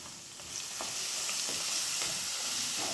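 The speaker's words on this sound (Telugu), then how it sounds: "ఇప్పుడు ఇందులోనే కొంచెం పచ్చి వాసన పోయేలాగా వేయించుకోవాలి" Roughly crushed garlic frying in oil in a pan for cauliflower pickle, a close, steady sizzle that swells after a brief quieter start, with soft stirring and no talk.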